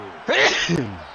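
A single close, sharp sneeze bursts out during a Madden NFL 23 football gaming session, followed by a brief voiced exhale.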